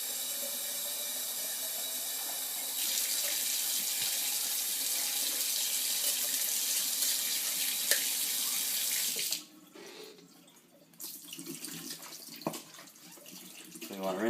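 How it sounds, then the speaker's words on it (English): Tap water gushes steadily and loudly close by as soaked hard red wheat is rinsed, then the flow drops and the water sloshes and splashes more unevenly. "We want to rinse that really good."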